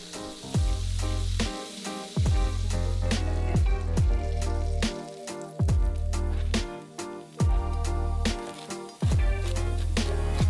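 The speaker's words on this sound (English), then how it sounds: "while these quesadillas fry away" Two folded quesadillas fry in a pan, a continuous sizzle underneath louder rhythmic background music with steady beats.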